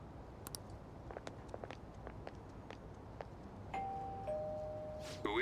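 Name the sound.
doorbell ringing in the video game Persona 5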